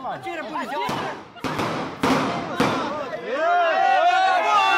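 Several sharp bangs ring out at irregular intervals over a dense, chaotic background of voices and harmonic sounds, each a sudden loud crack.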